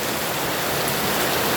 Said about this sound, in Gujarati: જામનગર શહેર વરસાદ ચાલુ થયો